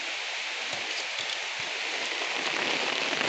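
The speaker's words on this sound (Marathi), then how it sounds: "जोरदार पाऊस आलेला आहे" Heavy monsoon rain pours down in a dense, steady hiss, drumming on surfaces close by without a break, during traditional rice transplanting in Konkan.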